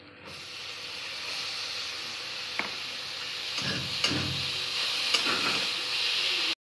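Chopped onion and green chilli hit a hot pan, giving a steady, fairly loud sizzling hiss with a few sharp clicks and spatters scattered through it.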